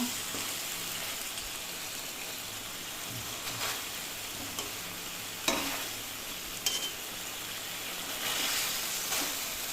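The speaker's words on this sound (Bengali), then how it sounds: "মাছটা দিয়েছি। মশলার সঙ্গে একটুখানি মিলিয়ে নেব।" Pomfret fish frying in spice masala for a jhal curry: a steady hiss of sizzling oil fills the clip, with a few louder scraping stirs breaking through now and then.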